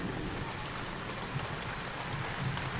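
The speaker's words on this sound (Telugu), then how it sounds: "ఇక్కడ చూసిన వాన పడుతూ ఉంది." Soft, steady rain patters continuously at a low level, with no voices.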